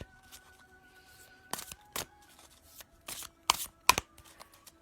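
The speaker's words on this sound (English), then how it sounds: "And I'll just pull a card." Oracle cards being shuffled in short papery riffling bursts, close and fairly quiet, with a few sharper snaps near the end against faint background tones.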